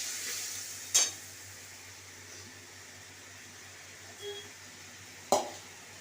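Spice paste for an egg curry cooks in a pan with a splash of water, giving a faint, steady sizzle broken by three sharp spoon clinks against the pan.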